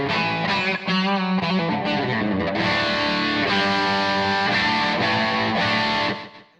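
An instrument runs through a textural delay effect pedal that smears into a reverb-like wash, dense and sustained at steady loudness before cutting off near the end.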